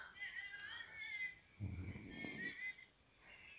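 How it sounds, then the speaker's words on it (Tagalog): An elderly man snoring in his sleep, one soft drawn-out snore rising and falling over quiet room noise, with faint background voices or sounds nearby. "Hagok-hagok pa."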